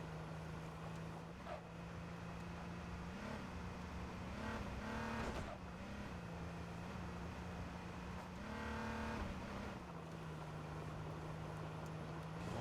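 A player's own car engine drones steadily in the H1Z1 video game, a low continuous hum that rises and falls as it accelerates and shifts, sounding slightly distant and filling the whole stretch.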